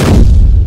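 A single loud, low boom from an artillery strike in the Ironsight video game, hitting hard at once and leaving a deep rumble that holds through the short moment.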